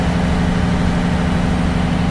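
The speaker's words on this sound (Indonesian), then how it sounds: "ini suaranya kencang banget mesinnya" A loud, steady bus engine drone with a low rumbling hum fills the space up close from the rear engine compartment, continuous and unchanging throughout.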